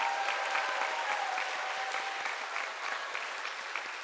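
A church congregation applauds steadily through a Sunday worship service, a dense wash of clapping that holds at an even level from start to finish with no voices above it.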